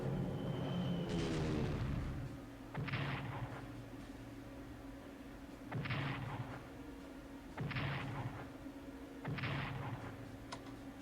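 Repeated bombing strikes in the WWII strategy game Strategic Command, War in Europe: five or six heavy booming bursts a second or two apart, each with a sharp crack, over a steady low rumble, with no talk.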